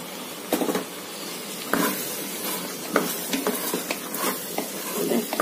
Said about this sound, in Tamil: நம்ம கட் பண்ணி வச்சிருக்க காளான் இதை சேர்த்துக்கலாங்க